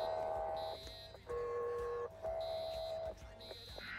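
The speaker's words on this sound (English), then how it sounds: "I can hear the alarm" An alarm sounds in alternating electronic tones, a pulsing pattern of steady beeps switching pitch every second or so, fairly quiet and heard at a distance amid radio chatter in a fire department setting.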